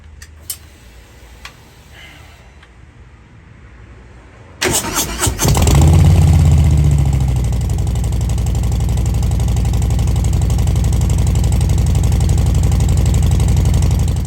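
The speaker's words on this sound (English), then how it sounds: "We're gonna do another cold start and see how much of a difference there is." A Harley-Davidson Low Rider ST with a Cobra exhaust cold-starts after a few quiet clicks, the starter catching into a loud rumbling idle that holds steady to the end.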